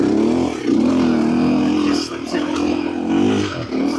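A big, heavy Suzuki DR motorcycle rides the Starcke dirt track. Its engine drones loud and close, rising and falling with the throttle, and a rider's voice talks over it.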